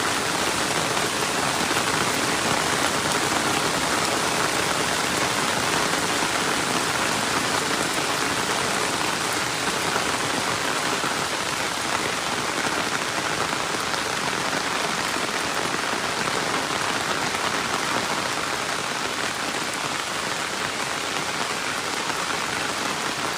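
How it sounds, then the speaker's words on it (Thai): Steady heavy rain pours down near a small weir along a dredged canal, a dense unbroken hiss of drops on surfaces lasting throughout with no voices. "ฝนกำลังตก"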